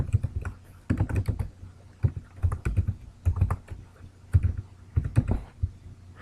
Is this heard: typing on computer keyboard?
yes